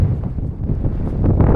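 Steady wind buffeting the microphone outdoors while yabby fishing, with a low, rumbling roar that holds throughout, loud and close.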